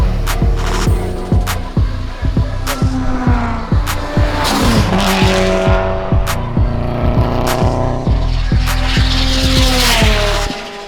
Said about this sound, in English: We've got some of the fastest Subarus out on track today.